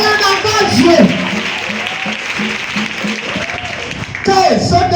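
Congregation at a French-speaking church service applauding in acclamation of God, a dense steady wash of many hands clapping with voices calling out over it throughout.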